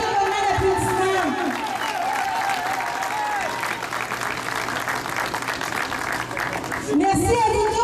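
Audience applause mixed with crowd noise at the Moroccan Throne Day celebration in Montréal, loud and steady for several seconds under a voice speaking French, tapering near the end.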